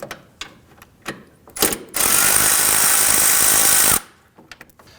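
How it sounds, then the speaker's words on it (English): A ratchet with a 10mm socket loosens a bolt on the shield of a 2001–2009 Volvo S60 2.5L, close by: a few scattered clicks, then a dense two-second burst of rapid ratcheting, followed by quieter taps. "we're going to use our ratchet to loosen and remove this"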